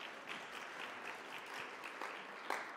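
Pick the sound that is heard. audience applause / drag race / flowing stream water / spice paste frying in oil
audience applause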